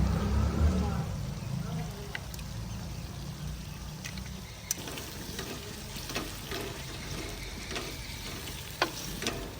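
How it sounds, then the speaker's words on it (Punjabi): Eggs frying with cooked potatoes in a pan in a village kitchen, giving a steady, close sizzle with scattered sharp crackles and a few spatula clicks. "ਇਹਦੇ ਵਿੱਚ ਹੁਣ ਪਾਵਾਂਗੇ ਅੰਡੇ"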